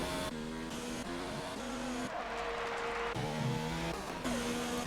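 F1 race cars overtaking in a video game at the German GP, with wet tires on some cars: high-pitched engines whine and shift through gears, several cars blending and passing in quick succession.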